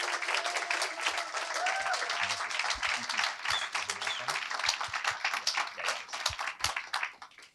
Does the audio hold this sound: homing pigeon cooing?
no